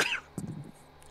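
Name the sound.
coughing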